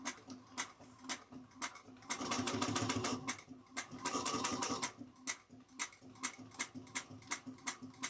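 A sewing machine stitches the bottom of a backpack, rapid bursts of needle clatter in short runs and longer sustained stretches, close and distinct with brief pauses between.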